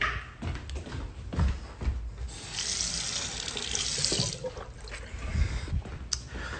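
Tap water runs steadily into a sink to fill a drinking glass, a close, continuous splashing rush with a slight change in tone partway through as the glass fills.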